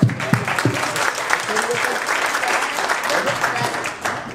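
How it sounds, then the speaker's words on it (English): Applause from the audience at a jazz jam session clinic at a national jazz festival, a steady wash of many hands clapping that fills the clip, with a few louder individual claps near the start. "round of applause"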